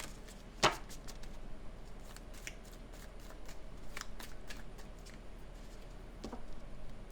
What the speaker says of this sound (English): I'll pull at least some angel wisdom guidance cards